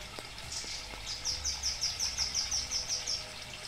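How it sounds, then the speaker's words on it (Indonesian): A bird calls outdoors with a quick series of about a dozen high, evenly spaced chirps at moderate distance, over a faint background hum. "Kamu lihat burung itu? Burung yang bunyi-bunyi itu?"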